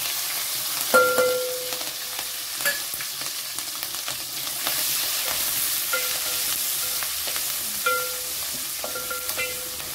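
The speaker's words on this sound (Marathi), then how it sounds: "थोडं परतून घेऊया मिरची। खूप छान खमंग फोडणी बसते" Green chilies and curry leaves hit hot tempering oil with asafoetida over a low flame, making a loud, close, continuous sizzle with intermittent clinks and scrapes of stirring and no voices.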